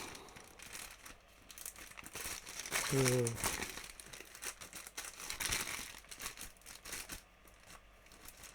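Crinkly plastic parcel packaging from AliExpress being handled and opened, a steady rustle with a louder crumpling burst in the middle, while someone talks over it.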